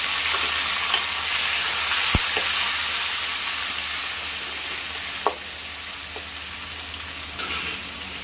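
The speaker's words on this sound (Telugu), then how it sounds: "ఇంక ఎరగట్లు కూడా బాగా ఫ్రై అయినాయి టమాటాలు వేసుకోవాలి" Onions and tomatoes fry in a pan with a steady, loud sizzle and hiss, broken by a few sharp clinks of a utensil stirring against the pan.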